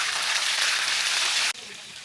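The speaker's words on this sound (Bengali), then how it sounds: "এভাবে আমি সবগুলো চিকেন ফ্রাই করে নিচ্ছি" Chicken pieces frying in hot oil, a dense hissing crackle steady for about a second and a half before dropping abruptly to a quieter sizzle.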